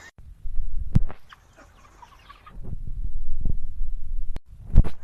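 A chicken clucks in short bursts of throaty calls at close range, with sharp knocks and handling noise between them.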